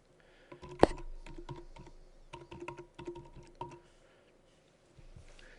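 Close, quiet key presses on a computer keyboard come in quick irregular bursts for a few seconds, then pause, with one louder clack near the start.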